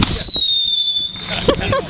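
Fireworks burst outdoors with a whistling rise followed by crackling pops and a louder bang near the end, heard over voices and background noise.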